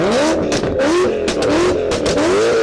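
A powerful BMW E60 M5 V10 engine revs repeatedly, pitch surging up and falling in several quick, loud bursts, close by at a car event.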